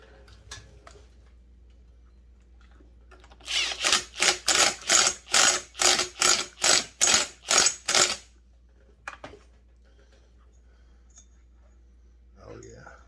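A part being tightened on a Husqvarna 372XP chainsaw during repair, about a dozen evenly spaced ratcheting clicks close up, followed by a couple of faint taps in a quiet room.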